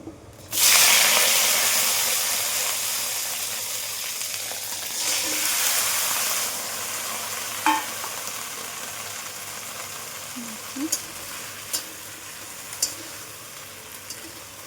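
Okra hits hot oil with nigella seeds in a pan for a Bengali-style curry, a loud sizzling hiss that settles into steady frying with occasional clinks of a utensil stirring.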